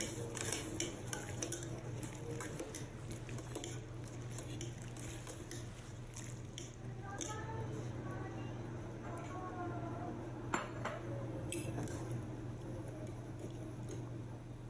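Utensils clatter and scrape against a pot as thin rice noodles are stirred while blanching in bubbling boiling water, a steady kitchen bustle with a constant low hum underneath.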